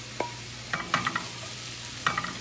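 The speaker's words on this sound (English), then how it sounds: "So the onions are still frying." Onions and carrots fry in a pan, a faint steady sizzle under a few sharp scraping and clinking stirring strokes in quick clusters.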